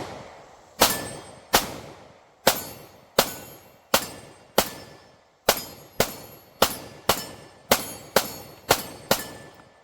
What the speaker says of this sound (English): Take a few shots here for you guys live on camera.